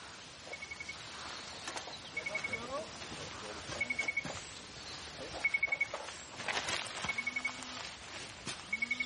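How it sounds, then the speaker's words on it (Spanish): Mobile phone ringing in an animated film, a repeating electronic ring tone in short regular bursts, with voices talking over it and scattered background effects. "¿Es el móvil de Istegui?"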